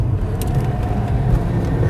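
A car engine on a race track is heard close and loud as the driver brakes and downshifts from third to second gear, with a steady rumbling drone and slight revs rising through the run.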